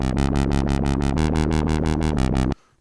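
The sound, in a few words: dubstep synth bass with straight triplet warble in Cubase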